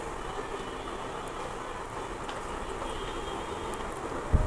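Long trains standing at Kamlapur railway station, a steady low rumble and station hum throughout with a faint thump near the end.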